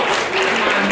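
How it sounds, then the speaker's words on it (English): An audience applauds at a queer comedy panel at a fan convention: a short, dense burst of clapping that fills the room and stays steady throughout. "We don't need an applause break after everyone."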